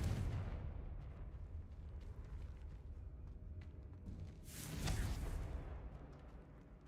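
A Confringo blast spell from Hogwarts Legacy goes off as a single booming burst partway through, rising out of a faint, rumbling game background.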